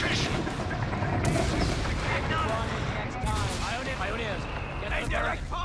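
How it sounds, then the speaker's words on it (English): Anti-tank gun fire in the video game Company of Heroes 3, a series of booming shots mixed with battle noise and explosions, with game voices talking over the fighting. "AT gun firing on us."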